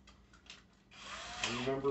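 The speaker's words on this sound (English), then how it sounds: "I want to get my drill." A power drill fitted with a mixer attachment whirs up close after a few faint knocks, its steady motor tone rising in pitch and loudness as it spins up during bottling of a brew.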